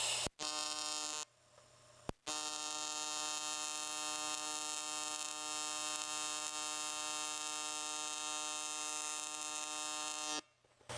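TIG welder laying wide tack welds with pulse switched off, a steady loud electric buzz holding for several seconds after two brief starts, then cutting out.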